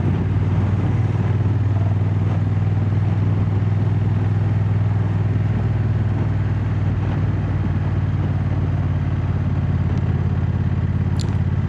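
A 2025 Honda NT1100 DCT motorcycle ridden two up, its engine humming steadily at a constant cruising pitch, close and continuous with wind noise and no talking.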